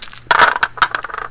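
Four dice are rolled for a basketball board game, rattling and clattering briskly on a hard surface in a short burst of clicks and taps.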